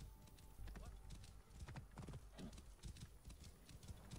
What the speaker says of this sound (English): This must be Meret's horse.